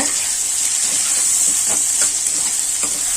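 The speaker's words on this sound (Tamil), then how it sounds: "இப்போ மஞ்சத்தூள் கொஞ்சம் போட்டலாம். போட்டு நல்லா வதக்குங்க." Steady sizzling of vegetables with turmeric and salt frying in a pan, with soft scraping and stirring clicks scattered throughout, close and continuous, no voices.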